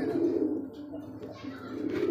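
Rajgolla pigeons, including a black-and-white male, cooing in low, throaty, continuous murmurs, close and moderately loud, with a louder coo at the end.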